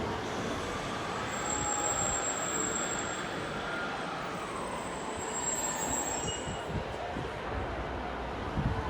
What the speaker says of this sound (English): And there's the other train that's coming out into the depot to the rescue.